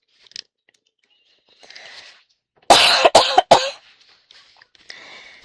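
A person coughs in a close, quiet room, three or four harsh bursts in quick succession, preceded and followed by faint breaths and small rustles.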